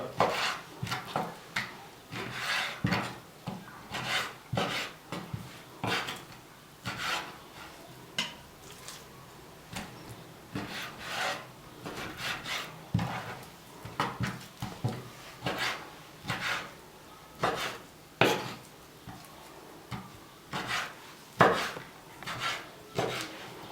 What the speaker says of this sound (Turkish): Az bir şey kuş başından büyük olacak şekilde tavuklarımızı doğradık.